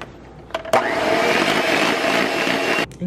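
An electric mixer whirs steadily for a couple of seconds, beating a keto cream cheese mixture softened in the microwave and sweetened with erythritol, starting abruptly and cutting off near the end, close and fairly loud with no talk.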